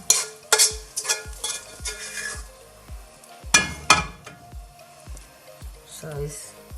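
Onions added to a pan of frying fish for Bengali fried fish, with stirring, clinks of a utensil against the pan and a steady sizzle under a person talking.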